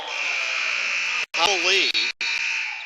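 A loud, steady electronic buzzer sounds at the end of a period in a high school basketball game, holding for nearly three seconds with a couple of brief cutouts while a commentator's voice runs over it.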